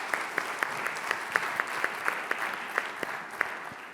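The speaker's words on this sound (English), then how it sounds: "A round of applause for Caroline." Audience applause at the close of a conference talk, a moderate crowd clapping in a steady, slightly uneven patter that thins out toward the end, with no talk over it.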